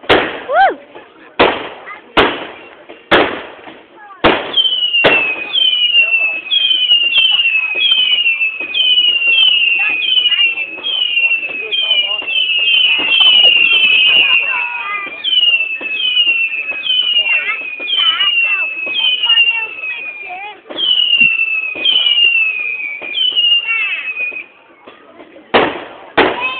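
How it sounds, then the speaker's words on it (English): Bonfire night fireworks: several sharp bangs open the scene, then a long stretch of whistling, screeching rockets or crackling effects overlaps continuously before more loud pops near the end, with voices occasionally audible. "Hold it up, try and get the fireworks."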